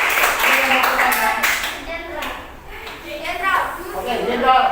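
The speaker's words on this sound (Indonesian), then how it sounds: "tepuk tangan untuk kelompok 3" A classroom of students claps for a student group presenting, a dense rattle of many hands close by, mixed with children's voices talking throughout.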